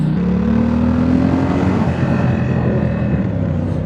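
Triumph Scrambler 1200 X motorcycle engine droning steadily while riding, a loud continuous hum with a rising pitch early on, wind rushing over it and no talking.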